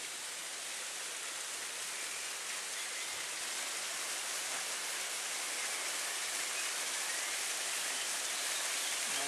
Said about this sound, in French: Le trop-plein du barrage s'écoule par ici, en légère ou importante cascade